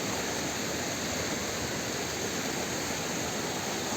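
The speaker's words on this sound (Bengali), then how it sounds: "এই দেখুন ওয়াটার ফলসের জল।" Waterfall water pouring in a steady, broadband rush at a hillside spot, loud and continuous with no voices over it.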